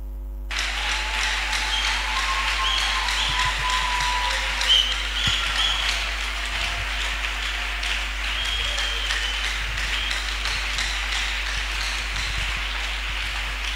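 A church congregation applauds and cheers for the speaker in a large hall, sustained crowd clapping with a few whistles and shouts rising over it, mid-distance and steady, with a low electrical hum underneath.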